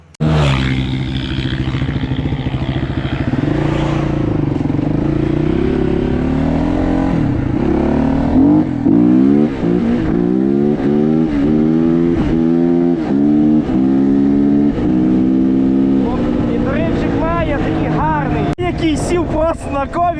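A KOVI 300 Lite R motorcycle being ridden on a test drive, its engine note climbing and falling through repeated revs and gear changes, loud and close.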